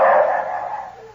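Dogs barking as a sound effect in an old-time radio drama, a single loud, slightly muffled bark burst close by with no talking over it.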